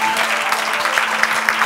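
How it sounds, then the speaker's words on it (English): An audience claps steadily at a film festival event in San Sebastián, a dense, continuous patter of many hands heard close. "we would like to welcome every team with a big applause"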